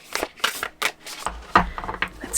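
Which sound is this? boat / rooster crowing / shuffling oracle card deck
shuffling oracle card deck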